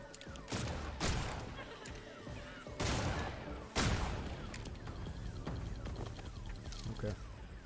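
Gunfire cracks through a firefight in the video game Redfall, with loud shot bursts near the start and middle over a dense, continuous rumble of action.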